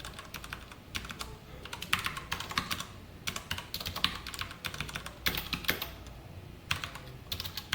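Close, quick typing on a computer keyboard while SQL queries are written, coming in bursts of rapid clicks with brief pauses between.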